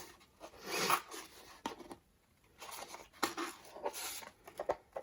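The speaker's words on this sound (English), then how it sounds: "Take my scissors, make a tiny mark right here, and then open it, and then I'll use that to start cutting." Scissors snipping through paper while cutting out a flower suncatcher frame, close and fairly quiet, in short bursts of cuts separated by pauses.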